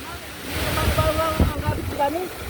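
Large sea waves whipped up by Typhoon Uwan around a small boat, a continuous roaring surge of water and wind noise buffeting the microphone, with excited voices calling out over it.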